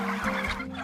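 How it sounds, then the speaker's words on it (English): Free range turkeys in a field gobble and cluck together as a busy, continuous flock chorus close by, with no talking. "And the way to tell these turkeys are Willie Bird turkeys is to say, Willie Bird!"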